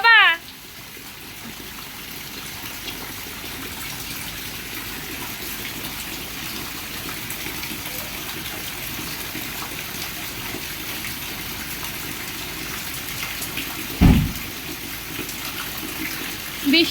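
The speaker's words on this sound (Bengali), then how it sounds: "কি বৃষ্টি নামতেছে।" Heavy rain pours down steadily from early morning, making a constant dense hiss that barely changes, with a brief thump near the end.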